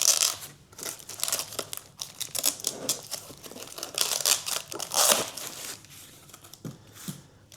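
Plastic and cardboard packaging crinkle and tear as it is stripped off a Cosco folding multi-position hand truck cart, with close, busy rustling bursts and crunches running throughout.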